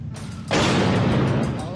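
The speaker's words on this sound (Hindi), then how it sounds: "काबुल के इस इलाके में ताबड़तोड़ रॉकेट के धमाके।" A heavy rocket blast in Kabul, a sudden loud boom after a quieter moment, its broad roar filling the air and slowly fading.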